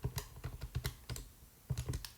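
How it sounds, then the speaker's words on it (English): A calculation is typed on a computer keyboard in two quick bursts of close, light key clicks with a short pause between, no talk. "we'll type all of this in at once"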